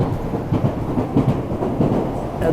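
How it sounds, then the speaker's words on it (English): A subway train runs underground, a continuous low rumble and roar with faint rhythmic clatter, steady and fairly loud throughout. "And the subway goes subterranean."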